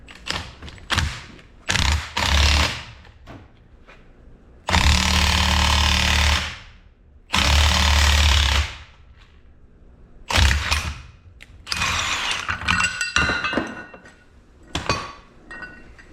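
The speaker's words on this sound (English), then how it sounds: "Pop this ball joint out right here." Popping a ball joint out of the steering knuckle on a 2006 Ford F250 Super Duty, close-up bursts of loud air-tool hammering. Several short hits come first, then two long sustained runs, then a choppier stretch with metallic clinks.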